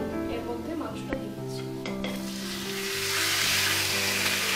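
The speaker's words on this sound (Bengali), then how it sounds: "মাংসটা আমি এখন হালকা করে ভেজে নিচ্ছি" Chicken pieces being lightly fried in a pan for Bangladeshi haleem, a steady sizzle that swells louder toward the end, with scraping stirs and a voice talking over it.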